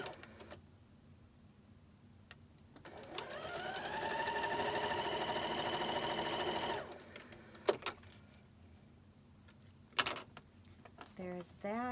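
A sewing machine stitches together rows of a scrappy nine-patch quilt made from 2.5-inch squares, ramping up into a steady run of about four seconds before stopping, with light handling clicks before and after.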